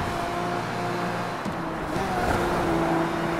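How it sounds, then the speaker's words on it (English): A car in the racing game Need for Speed Rivals roars along at very high speed, engine droning steadily with a shift in pitch midway, loud and close with no talk. "I was driving at 217 miles per hour."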